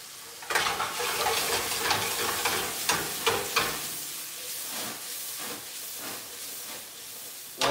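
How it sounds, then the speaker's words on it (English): A sizzling dish hisses steadily in a hot pan as a spoon stirs it, with several scraping strokes near the middle, close and moderately quiet, and no voices. "now we give this a bit of a stir"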